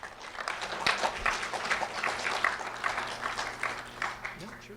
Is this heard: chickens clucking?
no